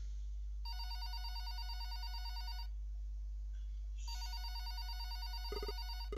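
A telephone rings in a horror video game, two long electronic ring bursts separated by a brief pause over a low steady hum, clear and close.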